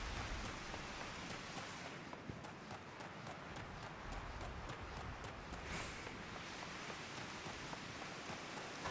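Steady rainfall from the Island Sanctuary in Final Fantasy XIV, a dense continuous hiss with scattered drop ticks and a brief swelling whoosh midway, faint throughout.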